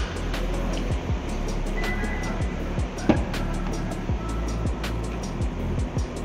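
A Honda car sits idling with its engine and air conditioning running, a steady low rumble with a constant hum and occasional light clicks, close by and without talk.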